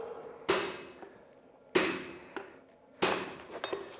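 A blacksmith hammers a red-hot iron axe head on a century-old anvil, three loud ringing metallic blows spaced about a second and a quarter apart, each followed by lighter rebound taps and a fading ring.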